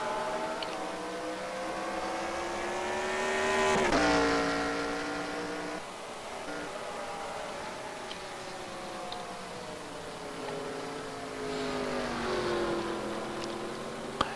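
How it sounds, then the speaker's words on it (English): Race cars drive on the track in a Pro Cup sim race at Infineon, their engines droning loud and close, the pitch rising and falling through gear changes and corners, with no talk. "And as you can see, Steve Weber, the 83 car, is trailing the Zero car as they go into turn 9 to start lap number 12."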